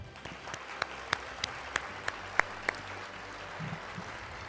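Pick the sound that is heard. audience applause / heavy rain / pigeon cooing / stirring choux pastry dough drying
audience applause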